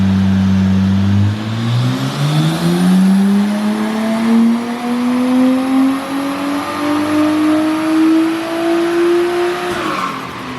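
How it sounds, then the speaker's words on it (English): Nissan R33 Skyline with a budget turbo on a power run, engine climbing steadily through the revs in one long loud pull, turbo whine rising above the drone before a sudden cut at the top. "Turbo sounds so cool"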